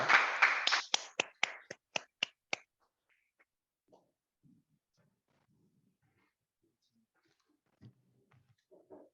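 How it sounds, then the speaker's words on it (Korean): A few hands clap in a small welcome for committee member Choi Won-chun at a founders' meeting, the claps loud and close at first, then slowing to a handful of separate claps before near silence with faint scattered noise. "최원춘 위원님 큰 박수로 모시겠습니다"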